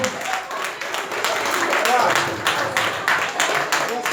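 Pub audience at a charity auction applauding the winning bidder, dense continuous clapping from a crowd with voices mixed in.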